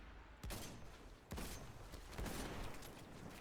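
Three sniper rifle shots in the Destiny 2 game, sharp loud cracks spaced roughly a second apart, each with a short ringing tail, nearby and without talk.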